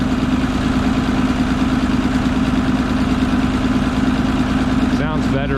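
An IH 1026 tractor engine idles with a newly fitted muffler, a loud, steady low-pitched drone with an even throb and no change in speed, up close.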